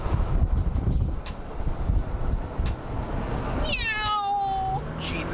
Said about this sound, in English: there's a kitten in the road